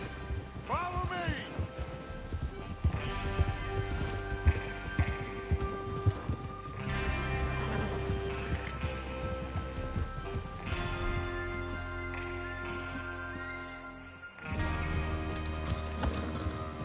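In a video game, horse hooves clop rhythmically at a steady gallop over a droning musical score, with a short break near the end before the beat resumes.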